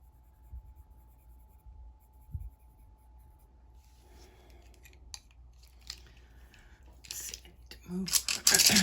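Polychromos colored pencil on drafting film, faint scratchy strokes that start sparse and quiet, then grow busier and louder toward the end, with a low steady hum behind.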